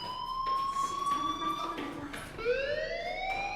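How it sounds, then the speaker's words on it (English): A fire alarm in the video game Life Is Strange sounds a steady high electronic tone that shifts pitch partway, moderately loud over faint background noise and brief murmuring. "Hey, do you hear that fire alarm?"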